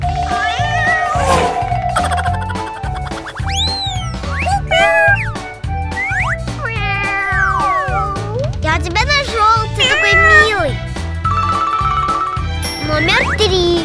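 Kittens meowing repeatedly with high, rising and falling cries over steady background music with bright chimes and jingles.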